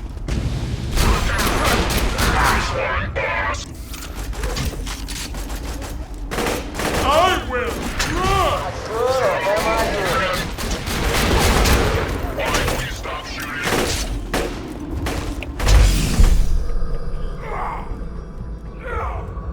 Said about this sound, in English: before I test out my Splatgun